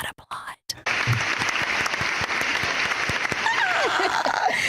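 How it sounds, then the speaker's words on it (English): A studio audience breaks into steady applause for a dermatologist guest on a talk show, loud and sustained after a brief pause, with a voice rising faintly near the end. "Applaud, applaud, applaud."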